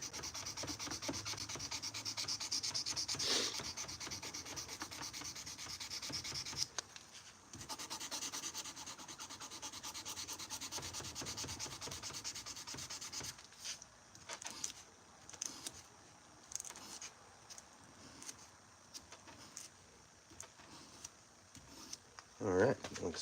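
Steady hand sanding on a steel knife blade, a continuous abrasive rubbing in long back-and-forth strokes, close and fairly loud, growing more intermittent toward the end.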